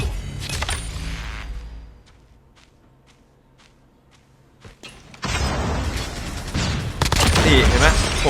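In Call of Duty Mobile, DR-H gunfire and game effects play. Faint clicks and footsteps come first, then a loud, dense burst of shots and action fills the last few seconds, with a voice talking over it.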